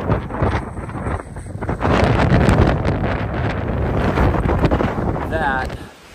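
Strong mountain wind gusts of up to about 70 miles an hour at Goose Eye East on a Maine section of the Appalachian Trail, buffeting the microphone with loud continuous rumbling roar that surges, fairly close and unbroken.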